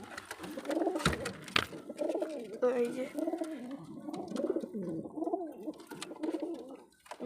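A young green male Madras pigeon coos repeatedly in a low, rolling rhythm close by, while someone talks over it throughout.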